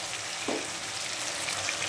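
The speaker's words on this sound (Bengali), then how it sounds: "আলুটাকেও লাল লাল করে ভাজার পর মশলা দিয়ে কষাচ্ছি" Potatoes fry in a pan with spices such as ginger, cumin and green chilli, producing a dense, steady sizzle throughout, heard close with one soft clink, and nobody talking.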